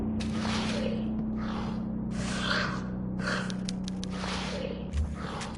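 Heavy, rasping monster breaths from the horror game Tormented Souls, set in a hospital, come in a steady rhythm of drawn-out inhales and exhales over a constant low hum, loud and close, with no talking.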